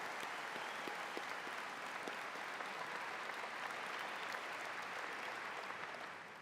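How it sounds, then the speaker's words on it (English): Sustained applause from a high school graduation audience honoring 2022 Bright Flight scholarship recipients and their parents, a steady dense clapping wash holding for several seconds before beginning to fade. "Let's have a round of applause for the 2022 Bright Flight recipients and their parents"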